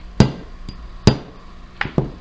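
A hammer taps on a drill bit used as a punch to drive out a wrist watch link, four sharp metallic strikes close by, two spaced apart and then a quicker pair.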